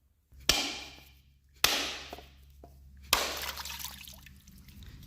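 Three sharp cracks strike a 540-gram coconut at intervals of about a second, each followed by a short fading rattle. After the last blow a faint trickle of water runs out.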